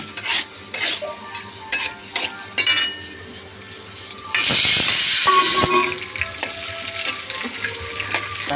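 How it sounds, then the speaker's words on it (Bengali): Hilsa fish head fried together with coconut and peanuts in oil in a home kitchen: a loud hiss bursts up midway as the ingredients hit the pan, with stirring, clinks of a utensil against the pan and sizzling continuing after. "মাছের মাথা, নারকেল আর বাদাম একসঙ্গে ভেজে নিচ্ছি।"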